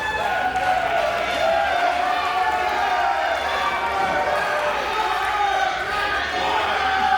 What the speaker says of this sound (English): The crowd asking for one more